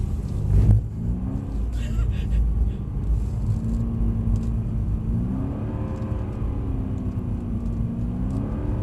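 A car engine held at steady revs, droning and whirring with rising and falling pitch sweeps, brief louder burst near the start.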